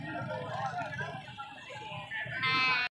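A goat bleats at a busy livestock market in Faisalabad, a strained wavering call rising near the end, heard over crowd noise and people talking.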